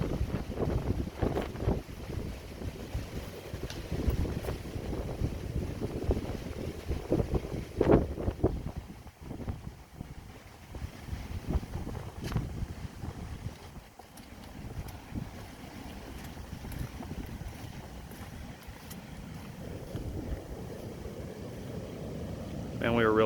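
Steady wind buffeting outdoors at a Florida beach on a cold morning, with a broad rushing roar and microphone gusts, speech heard intermittently over it.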